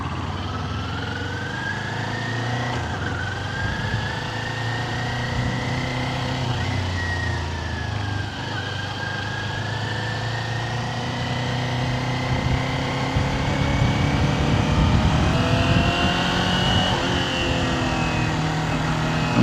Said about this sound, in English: Hit the starter button. Turn that bike on again.